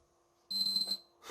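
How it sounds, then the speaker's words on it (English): A PlayStation 3 console with error code 8002F957 gives one short, shrill electronic beep, loud and close against a quiet background, followed by a faint click. "Beep beep."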